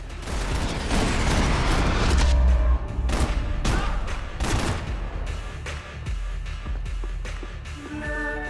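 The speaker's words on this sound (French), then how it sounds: "Ça balance des grenades maintenant." Grenade explosions and gunfire in the Max Payne 3 shooter game: heavy booming blasts followed by a volley of sharp loud shots in quick bursts, then scattered mechanical clatter as the fighting fades.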